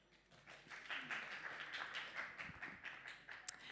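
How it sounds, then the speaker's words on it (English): Audience applause at a product launch event, a dense wash of many hands clapping that swells quickly and holds steady at moderate loudness throughout, fairly distant in a large hall, with no talking over it. "huge round of applause to him"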